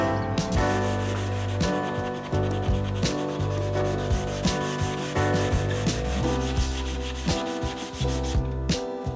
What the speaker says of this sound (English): Now they just need a little more sanding and they'll be ready for finish.